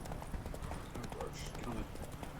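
Roach, Geralt's horse in The Witcher 3 video game, clip-clops along in quick rhythmic hoofbeats close by, with a game soundtrack or ambience underneath.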